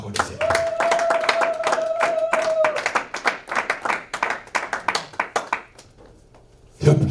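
Congregation in church clapping in praise, a run of rhythmic hand claps that thins into scattered claps and trails off, with a sustained sung or spoken tone over the start and a brief burst at the end.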